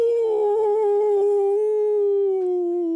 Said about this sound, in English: there is a howl coming from the common room